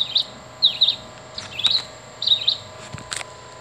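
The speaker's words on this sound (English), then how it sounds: "A red-eyed vireo with sound." Red-eyed vireo call played from a plush toy bird: a few short, high chirping phrases repeated in quick succession over faint electronic hum, close and moderately loud.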